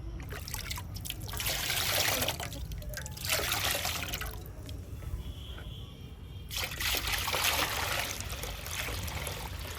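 Water runs steadily into a garlic and red chili solution being diluted for spraying vegetable crops, a continuous trickling, splashing stream close by with no talk.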